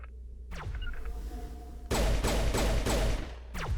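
Gunfire in the game Mass Effect: a quiet stretch with a few faint shots, then loud close bursts of rapid shots in quick succession with a sharp crack near the end.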